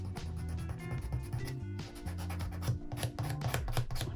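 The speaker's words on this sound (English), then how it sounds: "just using the white buffing or filing side, just rough up the nail" White buffing file roughing up gel nail polish, close-up rapid back-and-forth rasping strokes that are steady and fairly quiet, with no talk.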